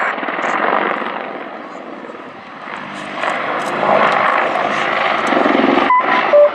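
An Apache gunship helicopter flies over an airfield during a mock attack display at the RIAT airshow, its loud, steady rotor and engine roar filling the air and swelling slightly as it passes.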